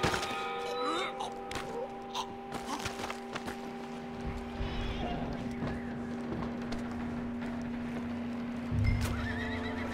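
A horse whinnies and neighs with clip-clopping hooves in Red Dead Redemption 2, fairly close and steady throughout, ending in a louder thump near the close over a low background hum.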